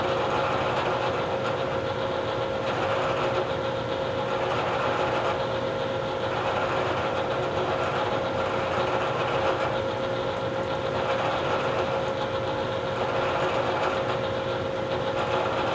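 A Bridgeport milling machine peck-drilling into metal stock, heard as a steady, loud mechanical drone with a constant whine and no distinct breaks, running alone throughout.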